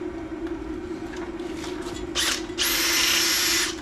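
A power drill whirs in short bursts, then runs steadily at high speed for about a second, close by over a constant low hum.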